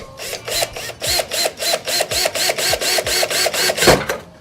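A small bit drills a pilot hole into a Ford Mustang's body panel, giving a steady run of rhythmic whirring pulses about eight times a second, close and fairly loud, with no talk.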